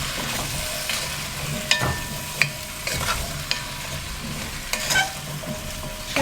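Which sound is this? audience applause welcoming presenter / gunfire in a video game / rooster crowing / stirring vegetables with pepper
stirring vegetables with pepper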